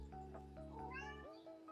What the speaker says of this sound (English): A cat has arrived.